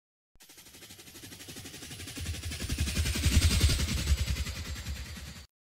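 Percussion samples and effects layered to imitate a helicopter form a rapid, chopping rotor-like pulse that rises in loudness toward the middle and then eases off before cutting out, alone with no talking.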